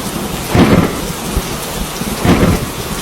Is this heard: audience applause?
no